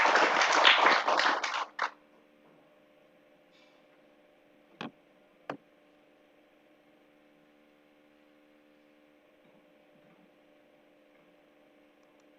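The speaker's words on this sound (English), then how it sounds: "Ladies and gentlemen, let's give him a round of applause." An audience applauds at a breakfast event as the national chairman is welcomed to the podium. A dense burst of clapping lasts under two seconds and stops abruptly, followed by a quiet room with a steady hum and a couple of faint knocks.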